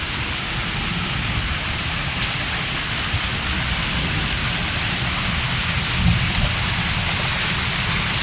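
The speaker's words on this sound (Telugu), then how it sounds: "హాఫ్ అన్ అవర్గా పడుతుందండి వర్షము ఇప్పుడు కొద్ది స్లో అయింది" Rain falls steadily near Hyderabad, a constant even hiss of drops on surfaces that holds at a moderate level throughout. No voices are heard.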